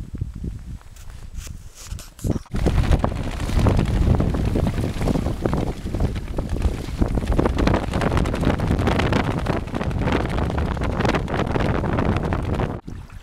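Strong wind gusts roar across open water on a canoe trip, a loud continuous rushing buffet that surges in after a brief quieter start and holds nearly unbroken to the end.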